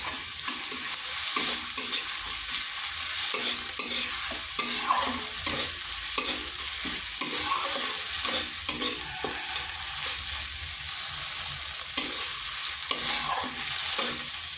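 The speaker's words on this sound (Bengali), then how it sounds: "এটা ভেজে নিচ্ছি যাতে আদা রসুনের পেস্ট মানে গন্ধটা চলে যায়।" Ginger garlic paste fries in a pan while being stirred, a steady close sizzle broken by frequent scraping stirs and a few brighter clicks throughout, with no voices.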